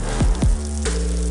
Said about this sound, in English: That's the sound of Hungry Howie's hot, real mozzarella cheese melting over a bed of dough made fresh today.